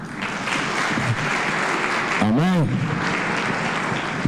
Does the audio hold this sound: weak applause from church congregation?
yes